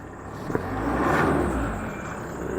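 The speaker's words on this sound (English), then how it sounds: "Like to give the diesels a rev when they're cold" A 2006 Hyundai Terracan's 2.9-litre turbo diesel revved while cold, a close engine rumble swelling up and settling back down over a couple of seconds.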